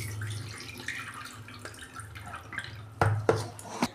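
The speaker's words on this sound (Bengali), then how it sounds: "নিয়ে এবার আমি ভালো করে লাউটা ধুয়ে নিচ্ছি।" A cut bottle gourd is rinsed under running tap water in a kitchen, with splashing, dripping and a few louder sloshes and clunks near the end.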